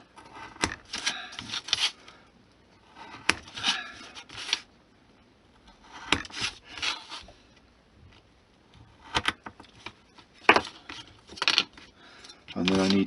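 Small cutters snip off over-length plastic stiffeners and corner posts on HO-scale model walls, giving sharp, close clicks and scraping in irregular bursts separated by quiet pauses.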